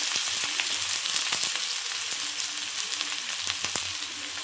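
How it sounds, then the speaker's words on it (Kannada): Onions and mustard seeds frying in hot oil for a Davangere-style mandakki and bajji, a steady loud sizzle with scattered sharp pops and crackles throughout, no voices. "ಸಾಸಿವೆ ಚಟಪಟ ಸಿಟ್ಟ ತಕ್ಷಣ ಈರುಳ್ಳಿ ಹಾಕ್ತಾಯಿದ್ದೀನಿ."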